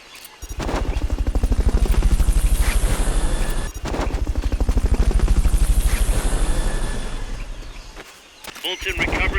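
Helicopter in Metal Gear Solid Peace Walker, a loud close rotor thumping in a rapid steady beat, dipping briefly near the middle and again toward the end, with a voice speaking over part of it.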